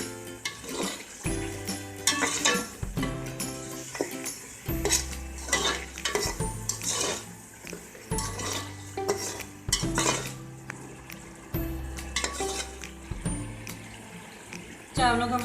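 Rice masala with salt and turmeric being stirred in a pot, with repeated metal spoon scrapes and clanks against the pot in an irregular rhythm over a soft sizzle, loud and close.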